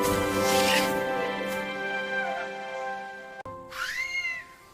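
An animated cartoon cat meows in pain after falling from a tree, giving a drawn-out wailing cry, then a brief click and a second rising, whining meow, close and fairly loud.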